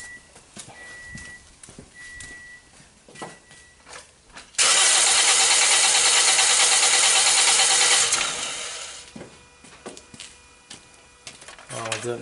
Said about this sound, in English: Alright, so I'm gonna crank right now